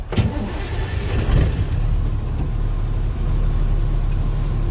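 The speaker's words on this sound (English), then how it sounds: "Clutch in, start my truck." A truck engine cranks and catches inside the cab, a loud starter burst settling into a steady rumbling idle, close and alone without talk.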